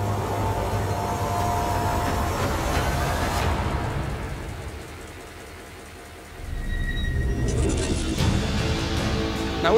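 A freight train rolls along a CSX rail line toward a new rail facility, a loud rumbling roar that eases midway and swells again, with brief high wheel squeals near the end.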